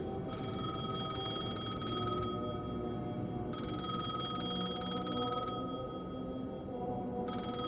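In the Alan Wake 2 video game, a telephone rings with a steady bright tone that cuts in and out in long bursts over a low, constant hum of ambient game noise, with nobody speaking.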